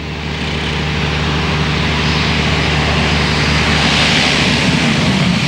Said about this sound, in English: The only transport to the island is by plane